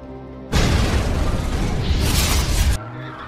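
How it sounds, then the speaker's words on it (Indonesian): Film scene of a car crashing, rolling over and exploding after a street race: a sudden loud, dense roaring blast bursts in, sustains with crunching rumble for about two seconds, then cuts back to quieter background. "Han mengalami tabrakan hingga mobilnya terguling dan meledak."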